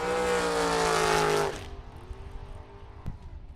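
Two drag race cars, a Thunderbird and a Camaro, roar loudly off the line together at a Super Pro bracket event, the engine blast cutting off abruptly after a second and a half, leaving faint rumble and a brief sharp knock.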